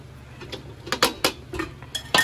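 Several sharp metallic clanks and clinks as a lid is set and adjusted on a pot of papaya and chicken in coconut milk, close and irregular.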